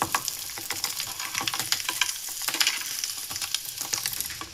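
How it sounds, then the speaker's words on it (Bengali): Egg-and-meat bread slow-fries in a pan over a half-lowered gas flame, giving a steady, close, crackling sizzle with fine popping throughout. "স্লোভাবে আস্তে আস্তে ভেজে নিতে হবে, তাহলে উপরে ক্রাঞ্চি হবে আর ভিতরে নরম হবে"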